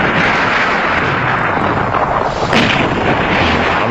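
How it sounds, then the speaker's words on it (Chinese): Dense, continuous battlefield gunfire and heavy firing from a Chinese war drama about fighting Japanese troops, loud and unbroken throughout with a sharper burst near the middle and no voices. "你听这枪声"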